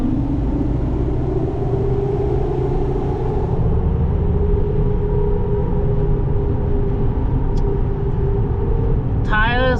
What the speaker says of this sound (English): Tires are a little noisy because yes, they are bigger wheel, bigger tire